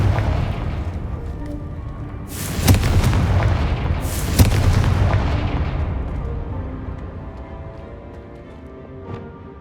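Two sharp spell blasts from the Confringo fire spell in the Hogwarts Legacy video game burst a couple of seconds apart, each a loud booming explosion trailing into a long fading rumble.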